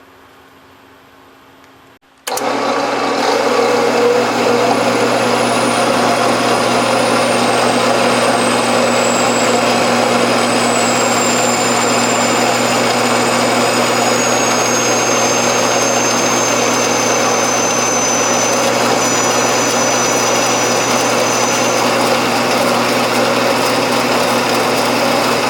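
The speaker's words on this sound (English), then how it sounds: "I should cut right through that, but what's happening is the blade's clogging up with the aluminum chips." A power saw starts up abruptly and grinds steadily through aluminum, loud and close, with a thin high whine drifting across the cut as the blade clogs with aluminum chips.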